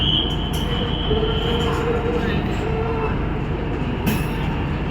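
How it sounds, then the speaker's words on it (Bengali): A train at Shri Mata Vaishno Devi Katra station rumbles close by with a loud low drone, and metal wheels squeal steadily above it throughout. "এই দেখো এটা আর একটা ট্রেন"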